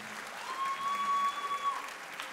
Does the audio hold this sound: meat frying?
no